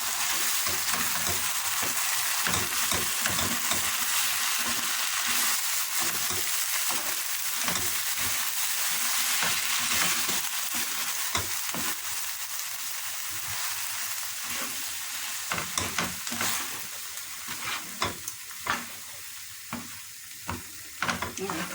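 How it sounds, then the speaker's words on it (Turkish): Bulgur with vegetables frying and being stirred in a pan, a loud continuous sizzle with steady scraping and stirring clicks throughout. "Şöyle bunu güzel bir karıştırıyorum. Sabzıyla kavuruyorum."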